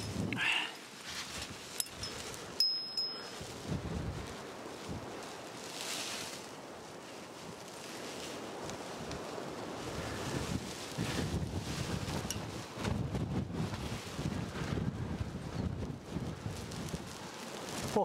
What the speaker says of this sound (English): Buffety wind.